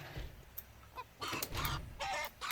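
Chickens in the video game 7 Days to Die cluck in short bursts, coming in uneven clusters, fairly close, with quiet gaps between them.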